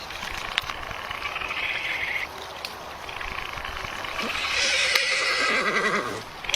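A horse on a quiet forest trail whinnies and snorts, with broadband rustling, hoof and trail noise throughout and a louder, closer neigh toward the end.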